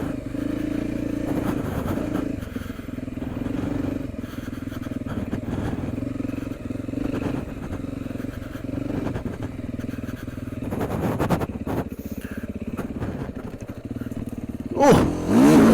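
Beta off-road motorcycle ridden on a trail, a steady close engine drone with small throttle changes, rattles and scrapes from the terrain, and a brief rev near the end.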